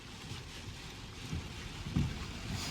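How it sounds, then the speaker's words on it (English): Steady rain drums on a parked car on a farm, heard from inside the cabin as a dense, even patter with a few heavier thumps of drops striking the roof, with no voices. "Finally got some rain."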